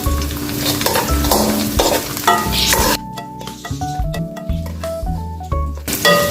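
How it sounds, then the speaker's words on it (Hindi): Raisins fry in hot ghee with a hissing sizzle, strongest early on, while melodic background music plays throughout and grows more prominent in the second half. "अब इसमें हम किशमिश डाल देते हैं और इसे भी हम फ्राई कर लेते हैं"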